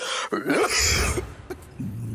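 A single harsh, close cough bursts out, followed by a rough throat-clearing rasp and then quiet.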